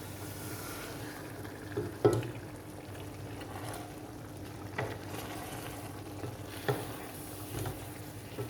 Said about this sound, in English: Okay, so I'm just going to stir this lightly